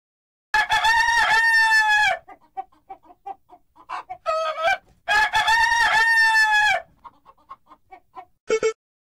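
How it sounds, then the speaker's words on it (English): A rooster crows loudly twice in long, harmonic cock-a-doodle-doo calls. Softer clucks and short bird notes fill the pauses between the crows, and a brief high call comes near the end. "Rooster."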